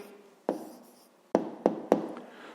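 A pen writing an answer on paper for a fifth-grade maths exercise, heard as a few short scratchy strokes and taps at close range, separated by brief pauses, with no talking.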